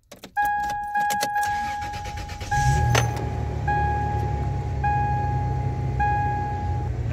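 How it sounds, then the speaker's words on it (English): A car engine is started up as part of a brake booster check, with a chime ringing repeatedly over the cabin before the engine catches and settles into a steady low rumble; no talking. "I'm gonna go ahead and start up the engine"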